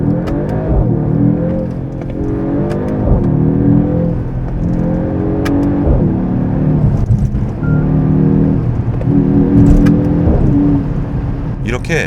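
A Mercedes-AMG GT 43 4-door growls through its sport exhaust in Sport Plus with manual shifting, a loud, steady engine drone rising in pitch several times between gearshifts, with brief dips at each shift; someone talks over it throughout.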